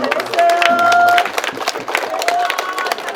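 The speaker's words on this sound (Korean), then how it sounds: "여러분 일어나서 박수 드리겠습니다." A seated audience rising to applaud at an anniversary commemoration ceremony, giving steady, loud clapping from many hands in a hall, with some voices mixed in.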